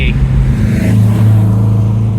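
A Ginetta G26 sports car with a 105-horsepower engine, heard from inside while driving: a loud, steady low engine drone with a slight rise in pitch, no voices.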